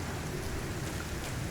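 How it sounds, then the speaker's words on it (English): Rain falls steadily in the survival video game Icarus, a soft, even hiss of drops that stays constant and fairly quiet with no voices. "now it is raining"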